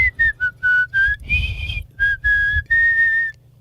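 A person whistles a short melodic tune, clear and close, with quick notes and a few sustained higher tones, no talking.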